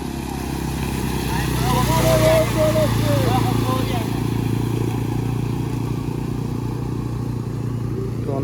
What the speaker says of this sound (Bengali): তো অপর সাইড দিয়ে আরও দুটি বাইক একসাথে আসছে।